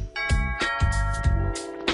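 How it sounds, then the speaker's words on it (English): A smart-house doorbell, triggered by a light switch, rings as a run of bright chime tones struck in quick succession, close and clear, with nobody talking. "but it's going to ring the doorbell too."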